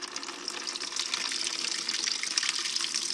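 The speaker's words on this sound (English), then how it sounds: "I'm gonna open the drain." Water rushing steadily out of an opened steam boiler drain, a continuous close gush like a running tap with no pauses.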